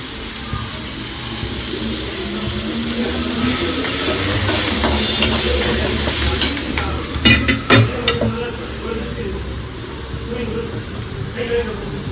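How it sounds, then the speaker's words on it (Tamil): Onions sauté in hot oil for a tamarind curry with sundakkai, giving a steady close sizzle with a few clinks of stirring, while a person talks over the cooking. "இந்த எண்ணெய் காயிட்டோம் வெங்காயம் வதங்கிட்டு இருக்கு"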